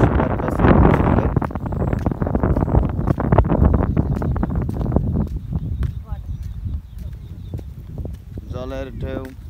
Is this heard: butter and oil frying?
no